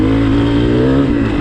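A 2023 Honda CRF250F dirt bike engine revving, a loud, close, steady buzzing drone that holds a constant pitch across a brief burst.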